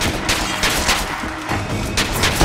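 Gunfire from the BioShock Infinite video game comes as a loud, dense stream of overlapping shots and booms, with heavy bursts running throughout.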